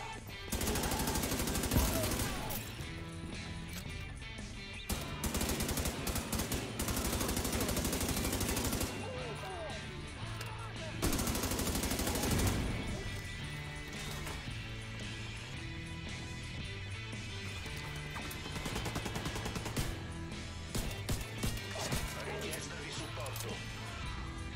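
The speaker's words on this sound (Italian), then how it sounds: "Cioè sparo, pistola, risparo." Dense, loud bursts of pistol gunfire in a video game crackle almost continuously, with rapid repeated shots and brief gaps, under a speaking voice.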